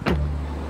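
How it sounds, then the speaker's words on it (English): Rolls-Royce door on a custom truck pulled shut by its electric closing motor, a short soft whir followed by a low steady hum that fades, close by and with no talk. "the door closes itself with a button"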